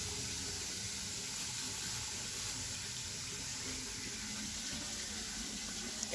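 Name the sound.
watering garden plants with water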